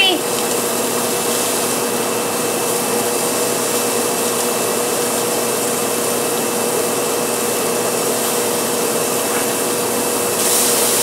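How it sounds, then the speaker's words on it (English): Kitchen exhaust fan running as a steady, even broadband whoosh with a faint constant hum, continuing unchanged throughout. "I'm gonna turn on the fan"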